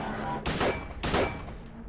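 Gunfire in Silent Hill 2, fired at Pyramid Head in a cramped room: two sharp loud shots about half a second apart, each with a brief ringing tail.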